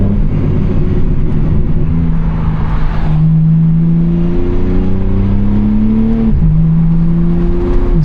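A BMW G80 M3 accelerates hard through the gears with ignition-cut shifts, rising engine tones broken by abrupt cuts at each shift, loud and close from inside the car.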